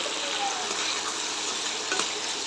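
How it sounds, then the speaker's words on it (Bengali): Ground spices, including coriander powder, fry in a pan for bhuna khichuri with red lentils, giving a steady, close crackling sizzle with faint stirring underneath. "এখন হচ্ছে ভালো করে মশলা ভেজে নেব"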